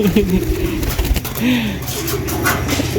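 Racing pigeons returning from a 106 km training toss in Rosales, Pangasinan give low, rolling coos, close and repeated, over steady outdoor background noise.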